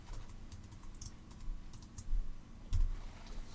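Quiet typing on a computer keyboard: scattered key clicks in an irregular rhythm with a few louder taps, heard alone over a faint background hum.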